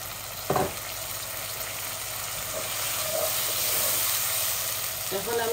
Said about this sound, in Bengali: আমি একটু পানি দেই।